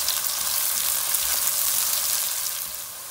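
Bean pieces dropped into a pan of onions and curry leaves frying in oil, giving a loud, steady close-up sizzle with no talking.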